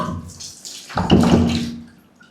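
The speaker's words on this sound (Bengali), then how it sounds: "কাপড় ধুইতেছি" Clothes being washed by hand in water, with sloshing and splashing that swells into a louder wet rush midway before tapering off; no talking.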